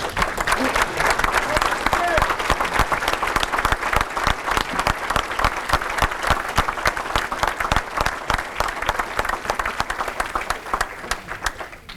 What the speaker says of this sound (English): Freddie Endicott, please stand up and give him a round of applause, please.